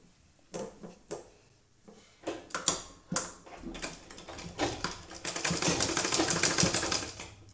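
A sewing machine stitches fabric for a 6-12 month baby's tikli hat: a few isolated clicks and short bursts, then a dense, continuous rapid mechanical chatter as it runs steadily near the end.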